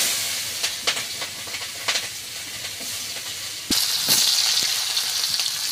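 Onion and green chillies sizzle in hot oil for a tilapia fish curry, a steady broadband hiss with crackling pops that jumps louder partway through as more goes into the pan.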